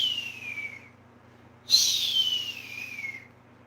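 A person whistles two long descending screeches in imitation of an eagle's cry, separated by a short pause, over a faint steady background hum.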